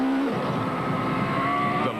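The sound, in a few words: 2-litre Class A8 Volkswagen Golf rally car at high speed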